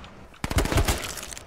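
Rapid burst of gunfire in the battle-royale shooter H1Z1: King of the Kill, a string of sharp, loud, close shots fired in quick succession, then a lingering tail of noise.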